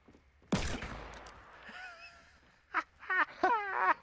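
A sharp burst of pistol fire in the Fortnite video game, followed by scattered shots and a short goose-like honk, alone with no talk.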